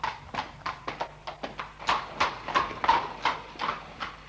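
Cavalry horses of Kingston's light horse from Cumberland's army entering Inverness in 1746, with steady, evenly spaced hoofbeats clopping close by and no talking.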